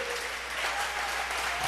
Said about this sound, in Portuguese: dê uma salva de palmas para esse Deus